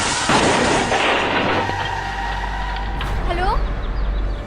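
A truck crash: a loud crash at the start followed by a rumbling low roar and clattering debris, with a rising squeal of metal near the end.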